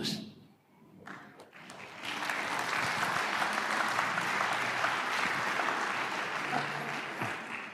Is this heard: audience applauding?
yes